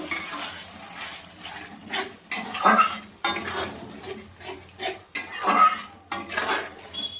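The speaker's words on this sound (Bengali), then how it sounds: "এই জন্য ভালো করে আমি নাড়িয়ে নিচ্ছি" A spoon scrapes and clatters around a wok while cashew and melon-seed masala paste is stirred and sautéed, with repeated bursts of metallic scraping and soft frying hiss and no talking.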